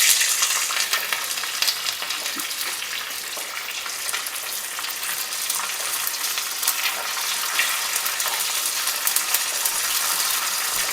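Black mustard seeds, two dried chillies and curry leaves fry in hot oil with a steady, dense sizzle and crackle that stays loud and continuous throughout.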